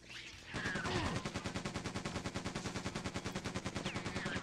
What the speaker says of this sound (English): time to switch to the machine gun